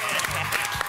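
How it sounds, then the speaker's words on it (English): A short burst of audience applause, steady clapping from a crowd filling the moment without a break. "Round of applause."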